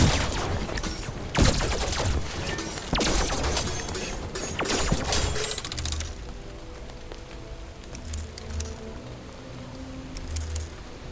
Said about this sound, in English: It fires a cannonball in a random direction that explodes in an area.